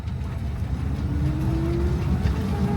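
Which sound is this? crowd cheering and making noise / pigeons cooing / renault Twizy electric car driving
renault Twizy electric car driving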